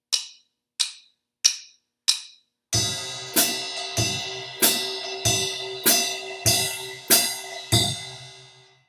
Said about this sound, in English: you're going to get a basic jazz beat that sounds like this.